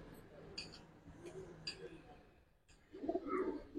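Pigeons, giribaz and colored breeds, cooing softly in a quiet indoor setting, a few low murmuring coos rising louder near the end, with faint background voices.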